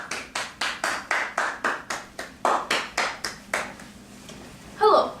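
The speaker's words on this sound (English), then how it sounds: "Let's give him a warm round of applause" A small audience gives a steady round of applause for a speaker introduced at a polio documentary presentation: about a dozen evenly spaced, close claps that gradually thin out, ending with a brief light clink.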